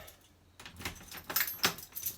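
Keys jangling at a uPVC door lock, a run of light metallic clinks and rattles close by, starting after a brief quiet moment.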